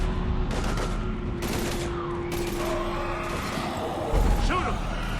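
Gunfire in a Mass Effect 3 firefight, bursts of shots crackling over a dense battle soundscape with voices and a low rumble underneath, steady and fairly loud throughout.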